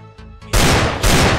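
Desert Eagle pistol fire in Counter-Strike: Global Offensive: two soft, distant taps, then two loud close heavy shots about half a second apart, each ringing out into a long booming tail.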